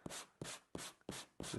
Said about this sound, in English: I'm kind of just actually resting the sanding block on the surface